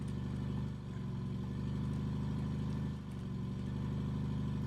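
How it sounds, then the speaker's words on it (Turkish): A motorhome engine in the driving game RV There Yet drones with a steady low rumble and harmonic whine, rising and settling as it revs, with two brief dips in loudness. "Bağırtma motoru, bağırtma motoru"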